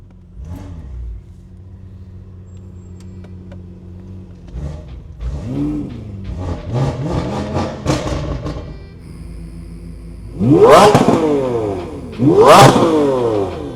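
A BMW M5 engine cranks and catches, then settles into a rough idle before being revved hard twice, each loud, rising roar near and falling back toward idle.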